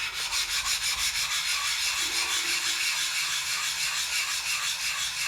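A diamond plate is rubbed back and forth over a sharpening stone to flatten it, giving a continuous gritty scraping in quick, regular strokes, close up with no talking.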